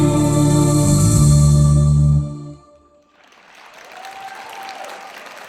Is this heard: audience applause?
yes